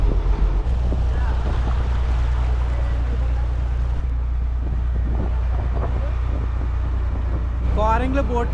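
A motor boat carries passengers across the water at Coringa wild forest near Kakinada, a steady low engine drone with wind buffeting the microphone and people talking faintly over it.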